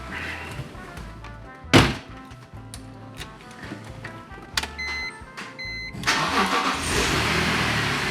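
A BMW E46 M3 cranks and starts up nearby, with a sharp thunk early on, then the engine catches and settles into a steady, loud idle.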